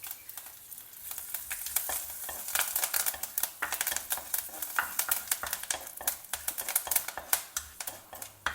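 Curry leaves spit and sizzle in hot oil with dry red chili and hing for a tempering, a dense crackling fry with sharp pops and stirring scrapes in a pan, no talking.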